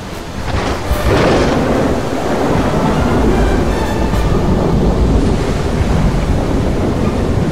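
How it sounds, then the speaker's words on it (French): A loud sea storm in a cartoon roars with crashing waves and gusting wind, a heavy continuous rumble that surges early and stays intense throughout. "Oh non! Une tempête!"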